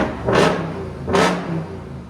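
Two quick loud revs from a RAM TRX engine breathing through an aftermarket exhaust bark out about a second apart, each dropping back to a deep rumbling idle.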